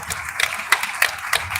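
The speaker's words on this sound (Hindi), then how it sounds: "आप लोगों का स्वागत जोरदार तालियों के साथ करना।" Audience applause welcoming a MGNREGA federation block president at a workers' rally, brief clapping with a few sharper claps standing out over a steady crowd patter.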